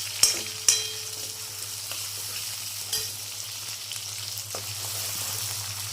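Tomato dropped into a pan of garlic and chilli frying in oil, with two sharp splashes at the start followed by a steady sizzle and occasional stirring scrapes.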